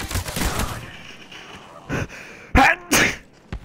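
A sharp sneeze bursts out after some muffled background noise, followed by a second quick burst and a brief knock, close and loud against a quiet room where a game is being played.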